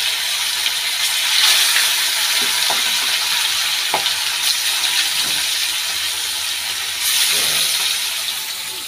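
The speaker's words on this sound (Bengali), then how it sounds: "তো মাছটা এখন ভেজে নিচ্ছি। এখানে তেল দিয়ে দিয়েছি, সরষের তেল।" Fish frying in mustard oil sizzles steadily and loudly up close, a dense continuous hiss with occasional faint pops and swells.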